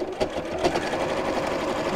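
A sewing machine top stitching straight lines across thick fabric, its needle running in a steady, rapid mechanical chatter, close and continuous with slight surges as it pushes over the heavier layers.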